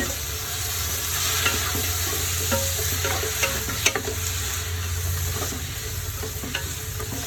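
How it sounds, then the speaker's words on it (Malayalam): Chicken pieces sizzle steadily in a hot pan for a biryani, with scraping stir strokes and occasional sharper clinks against the pan, loud and close with no talking. "ഇറച്ചി ഇനി ഇട്ട് കൊടുക്കാം."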